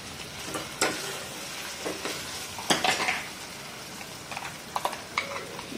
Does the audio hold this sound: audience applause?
no